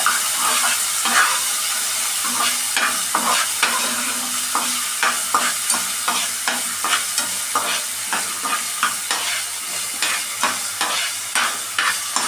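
Finely chopped tomato sautéed in a pan with curry leaves, a loud continuous sizzle broken by rhythmic, repeated spatula scrapes and stirs throughout, no speech.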